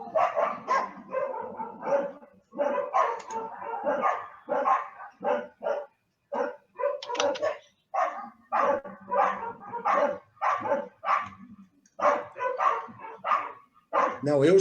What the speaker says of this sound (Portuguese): eu estou só ouvindo os cachorros.